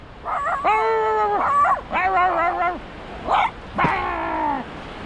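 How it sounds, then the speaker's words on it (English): A poodle near the microphone lets out a string of high, drawn-out whimpers and yelping howls, four or five separate bursts with short gaps between them, loud and alone. "Here come old dog."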